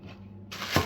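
A knife cuts through a sheet of rolled-out homemade fish wafer food in one short, crisp scraping stroke, close and fairly quiet.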